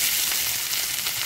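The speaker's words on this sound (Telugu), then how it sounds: "ముందుగా కట్ చేసి పెట్టుకున్న ఉల్లిపాయ ముక్కల్ని వేసుకుందాం." Chopped onion pieces sizzle in hot oil in a kadai for a fish curry, a steady, dense, bright crackle heard close up and unbroken throughout, with no voices.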